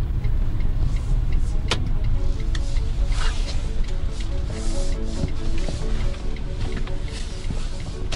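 Nissan Dayz Roox kei car driving along a snowy back track in winter in Siberia, its engine and tyre rumble steady and close throughout with no talk.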